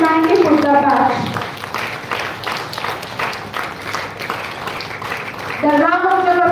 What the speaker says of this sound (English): The round of applause should be louder while we are welcoming our honorable patron.